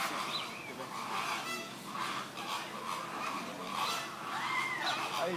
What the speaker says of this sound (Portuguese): Aí, Gilson, você que gosta de arara, ararinha linda.